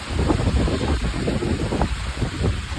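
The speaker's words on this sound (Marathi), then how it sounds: "आता पाऊस सुरू झालाय." Strong cyclone wind roars and buffets the microphone outside a rural home as rain begins, a loud, steady rushing noise with swelling gusts and no voices.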